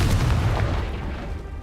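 A Confringo blast spell goes off in a Hogwarts video game, one loud, close, booming explosion that rumbles and slowly decays over the next second and a half.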